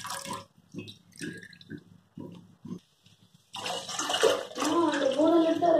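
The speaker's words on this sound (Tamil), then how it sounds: "பால் எல்லாம் கட் பண்ணி ஊற்றிட்டேங்க." Milk from four cut half-litre packets pours into a pot for homemade paneer, a steady splashing gush that starts partway through and runs loudly to the end, after a few short soft knocks and handling sounds.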